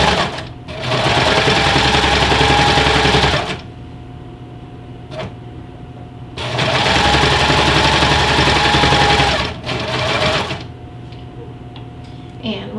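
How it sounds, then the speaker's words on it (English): Serger sewing machine stitching fabric for a glasses case, running in two loud sustained bursts of a few seconds each with quieter pauses between them. "we never want to hit pins with our sewing machine, but especially our serger"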